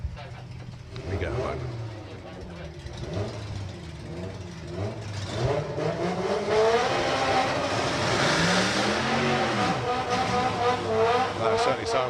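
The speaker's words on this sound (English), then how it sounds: "That certainly sounds like a Ford 2 litre down there. It's not a Ford 2 litre, but it is a 2 litre. That's a Toyota MR2 power plant" A drag racing car with a 2-litre Toyota MR2 engine at a drag strip, revving loudly and rising in pitch as it accelerates away, with a commentator talking over it.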